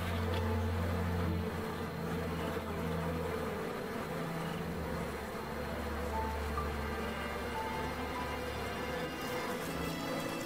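A dense, continuous buzzing of many bees close by at a hive entrance after winter, steady and droning, with a low rumble underneath.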